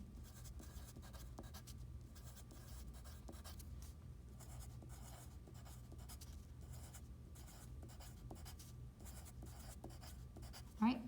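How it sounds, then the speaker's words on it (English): A pencil scratches steadily on paper throughout, soft and continuous, heard up close while someone jots down Spanish IR-verb conjugation notes, with a brief louder bump near the end. "I'm gonna use my pencil again."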